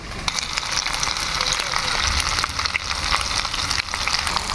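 Whole garlic cloves frying and being stirred in hot oil give a steady close sizzle with scraping stirs, under a voice speaking.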